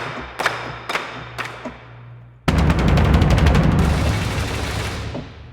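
Low boom percussion from the Spitfire Audio Hans Zimmer Percussion library: three separate sharp hits, then a sudden loud, dense roll of rapid booming strikes that rings on and slowly decays, with no voices.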